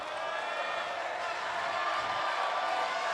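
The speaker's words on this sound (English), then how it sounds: "The crowd wants more." A crowd at a basketball event cheers and shouts steadily, a broad, continuous roar at moderate distance with no breaks.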